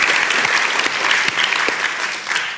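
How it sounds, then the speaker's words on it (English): Audience applause at a literary festival conversation event, a dense steady round of clapping from a crowd that holds for the whole stretch without voices. "Let's have a little round of applause."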